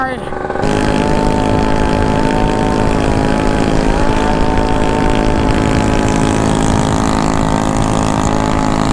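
A Honda Pop 50cc motorcycle rides downhill on a mountain road, its small engine droning loud and steady throughout with constant wind rush, after a brief quieter start.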